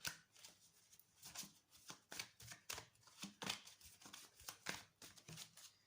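A deck of mirror oracle cards is shuffled up close, quiet rapid bursts of riffling and slapping in an uneven rhythm with no talk.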